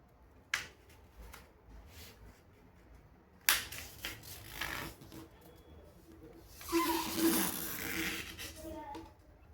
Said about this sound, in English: First fold from edge to edge vertically.